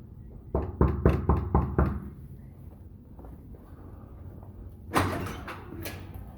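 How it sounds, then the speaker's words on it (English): A quick run of about six firm knocks on a Las Vegas hotel room door, then quiet room tone, followed by a louder door bump near the end. "So we're gonna knock and then move to the side"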